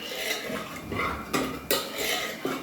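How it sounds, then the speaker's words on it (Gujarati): A metal spoon scrapes and clinks against a cooking pot while stirring dal fry, with a few sharp knocks spaced irregularly, no talking. "એ રીતે મેં દાળ મિક્સ કરી ચમચાથી અલાઈ અલાવી"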